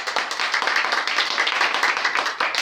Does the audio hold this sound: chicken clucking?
no